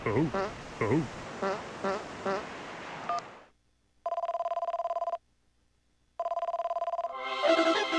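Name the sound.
phone ringing in video game Game & Wario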